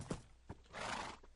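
Minecraft horse neighing: two quick hoof-like thuds followed by a loud, breathy whinny lasting about half a second, close and clear with no talking.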